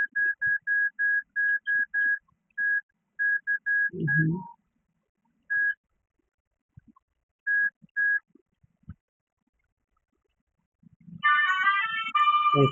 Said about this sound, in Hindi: इसको ऑफ करना होता है मेरे मोबाइल को